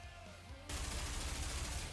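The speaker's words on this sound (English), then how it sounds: "Dorothy's gunfire lashes in from all directions, hitting her mark." Rapid automatic gunfire in the NIKKE game bursts in after a quieter opening, becoming a dense, continuous barrage of loud shots with heavy low rumble that fills the rest of the moment.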